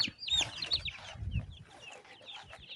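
Chicks cheep and cluck in quick, overlapping high calls, with a few low bursts, busy and close by with no talking.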